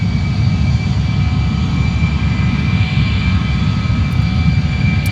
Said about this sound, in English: Here's airplane jet rev engine.